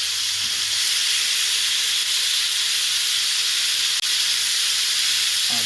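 Onions, tomatoes, olives and garlic cook in a pan, producing a loud, continuous hissing sizzle close by with almost no variation.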